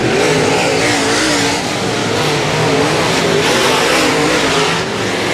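Race cars at Super Bowl Speedway roar loudly as they accelerate out of the corners, engines revving in a steady, dense wall of overlapping noise close by.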